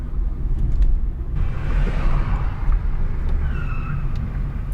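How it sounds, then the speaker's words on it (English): Busy road traffic rumbles past close by in a constant low, heavy drone of engines and tires, with no pause or clear break. "Traffic all over the place."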